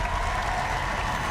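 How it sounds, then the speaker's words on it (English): An audience claps loudly and continuously at the close of a filmmakers' roundtable show, with dense, even applause filling the whole moment and a faint crowd murmur underneath. "Let's give one more applause for Luke."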